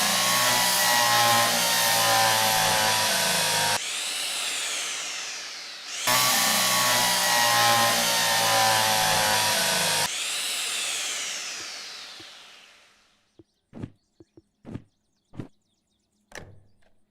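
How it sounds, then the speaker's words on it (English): A power drill whines in two long loud bursts, each winding down as it stops, followed by a few short sharp clicks and knocks, with no talking. "Drill."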